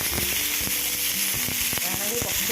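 Panikoorka leaves sautéing in ghee in a pan for chutney, with a continuous loud sizzle, a few sharp pops and crackles, and occasional scraping stirs.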